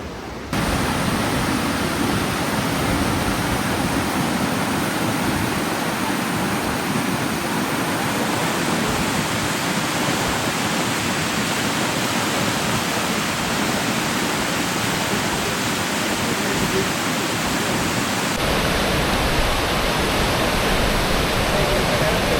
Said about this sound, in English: What an absolutely raging mountain waterfall.